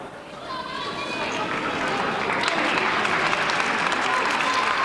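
Crowd at a 1994 high school boys basketball game between Gettysburg and James Buchanan claps steadily, the applause swelling louder after the first second and holding, with faint gym chatter and commentary beneath.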